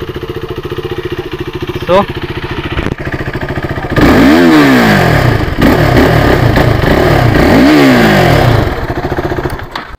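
A KTM RC 390 motorcycle engine idles with a loud, throaty burble, then revs up hard twice in rising and falling sweeps. It is heard up close while someone talks over it.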